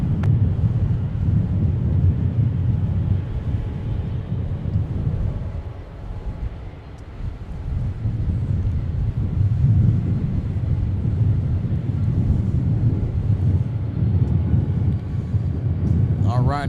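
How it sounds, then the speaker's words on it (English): A United Express Embraer E175LR jet taking off from the airport, a loud, sustained low engine roar that swells and eases over the whole span, with wind buffeting the microphone. "United Express getting airborne with the E175LR."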